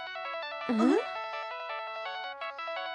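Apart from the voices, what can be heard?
phone ringtone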